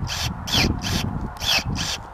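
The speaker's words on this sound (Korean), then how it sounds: "용접선 구리선들이 많이 들어가 있는 타입인데 요것도 제가 한번 잘라볼게요" Cordless electric shears cutting through copper welding cable with many strands: five rhythmic rasping bursts from the blade over a steady low motor rumble, close up.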